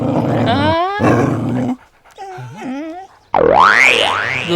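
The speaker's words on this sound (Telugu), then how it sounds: "గోయిందు వన్ డాగ్ ఓన్లీ, వై పెద్ద సౌండ్ కమింగ్" A dog in a Telugu comedy film scene gives loud, close growls and roaring howls in separate bursts, each sweeping up and down in pitch, with a short quieter gap between them.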